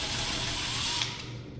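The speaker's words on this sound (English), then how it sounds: "I'm gonna pull these two screws out" A ceiling fan blade has screws backed out by a small driver, making a short, close, steady mechanical whir with a buzzing texture that fades away at the end.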